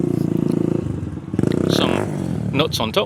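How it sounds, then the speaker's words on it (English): A motorcycle engine revs and drones in the background of a park while a person talks over it up close. "who seem to think the park is a place where you ride a motorcycle."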